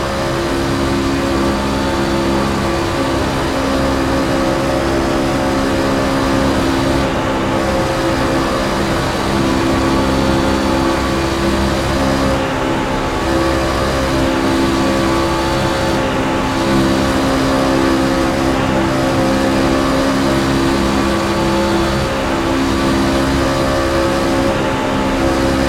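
Racing trucks at Daytona head into a corner, their engines a loud, steady roar that holds without a break the whole time, with no talking.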